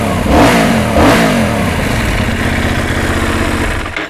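A Benelli Leoncino 800 motorcycle engine revs through its exhaust silencers, with two quick throttle blips rising and falling before a steady rumbling idle that cuts off at the end. The sound is loud and close.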